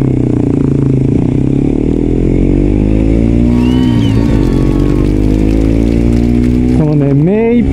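A Suzuki GSX-R125 motorcycle engine revs high while riding, its tone climbing steadily, dipping at a shift and rising again under constant loud wind rush, with someone talking over it.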